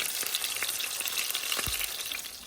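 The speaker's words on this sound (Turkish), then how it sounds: "Şöyle kızartayım da." Food fries in a pan with a steady close hiss and crackle throughout, a soft knock from stirring partway through.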